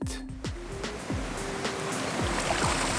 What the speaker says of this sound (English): There is something splashing in the water.